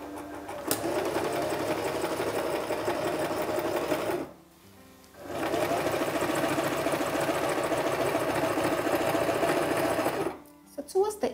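A sewing machine stitches fabric while a traditional iro and buba is being sewn. It runs in two long, steady bursts with a short pause between them and another pause near the end, and a voice talks over it.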